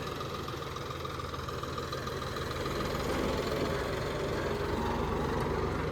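An Eicher 650 CRDI 4x4 tractor works a seven-tine plough, its diesel engine giving a steady, close, loud drone that holds even for the full stretch with no voices.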